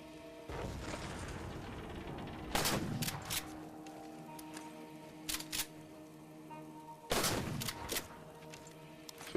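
Bursts of gunfire in Halo 4 aimed at a Banshee flier: about four separate volleys of sharp shots, each trailing into a low boom, spaced through the stretch over a quiet game background hum.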